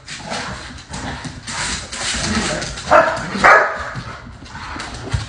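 Three dogs play-fight close by, trading rough growls and sharp barks in bursts, with rustling movement between.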